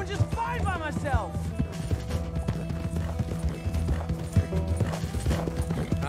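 Horse hooves in the video game Red Dead Redemption 2, a fast, steady clip-clop of galloping under game music, with a brief whinny near the start and voices talking over it.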